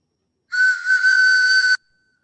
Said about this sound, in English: That's a train whistle, by the way.